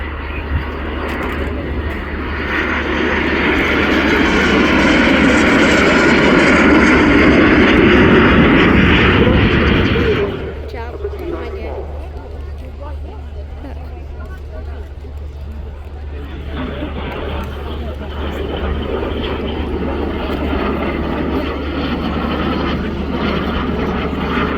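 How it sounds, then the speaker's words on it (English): A formation of fixed-wing aircraft flies past at the RIAT airshow. The engine roar is loud and builds to a peak, then drops away into a lower, steady rumble, with crowd babble and a commentator's voice underneath. "Both aircraft now in for a slow pass with gear down."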